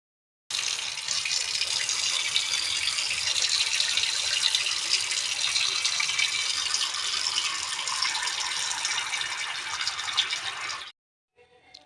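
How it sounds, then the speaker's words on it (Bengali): Kuri fish are washed with hot water and salt under a running tap, a steady close rush of water with faint rattling that continues for several seconds before cutting off abruptly. "মাছগুলো আমি গরম জল আর লবণ দিয়ে ধুয়ে ফেলছি ভালো করে"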